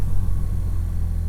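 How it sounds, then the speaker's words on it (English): BMW R nineT boxer twin idling or cruising through an Akrapovic exhaust, a deep, steady bassy rumble with a droning low pulse, close and loud throughout. "I'm really loving the sound of this Akropovich exhaust"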